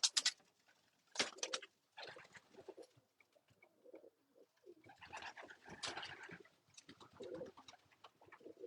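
Racing pigeons in a loft coo softly in quiet, intermittent bursts, with scattered rustles and wing movements in between; the sounds are faint and close, with no talking.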